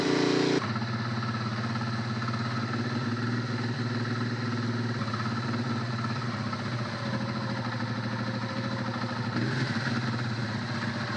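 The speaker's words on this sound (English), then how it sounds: "It makes the difference already for the way the bike runs." A Honda Transalp motorcycle engine idles while the bike stands still, a steady close mid-pitched rumble with a faint mechanical clatter holding even throughout.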